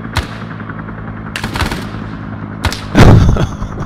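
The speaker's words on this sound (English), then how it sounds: "One of my best grenades yet" Arma 3 CamLaoNam combat in a rice paddy firefight: several sharp gunshots ring out at spaced intervals, closing with a heavier, louder boom from a grenade blast.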